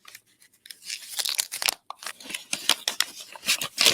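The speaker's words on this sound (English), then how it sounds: "So let's rip this open." A mailed package holding vintage baseball cards being ripped open by hand, with bursts of tearing paper and crinkling plastic in quick irregular succession, close and fairly loud, no speech.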